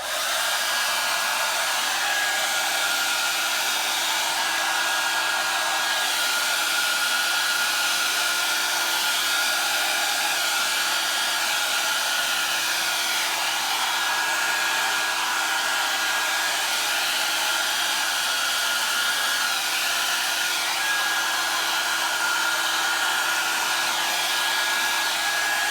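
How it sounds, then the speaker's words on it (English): A hair dryer blows steadily across wet acrylic pour paint, a loud continuous whooshing hum with a faint motor whine lasting the whole time, close up and without speech. "I'm gonna use my hairdryer"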